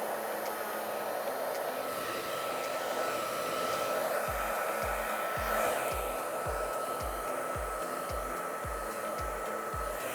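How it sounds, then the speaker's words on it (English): A hair dryer blows continuously on naturally wavy hair, a loud, close, steady whoosh with soft rhythmic thumps running underneath in the second half. "think about blow drying naturally wavy hair kind of like ironing clothing"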